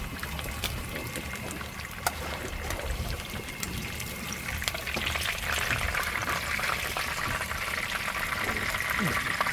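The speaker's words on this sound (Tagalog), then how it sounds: "So, batch na ang ating pag-prito." Steady oil sizzle and crackle of food frying in a pan, continuous and close, growing a little louder and brighter partway through.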